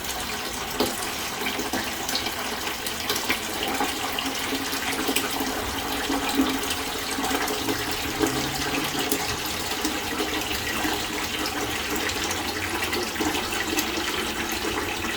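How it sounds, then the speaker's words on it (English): Water gushes and splashes steadily for the whole stretch, a continuous dense rushing as it drains out of old radiators in a 1925 house, with no voices. "That's the water out of our radiators, which is amazingly clean."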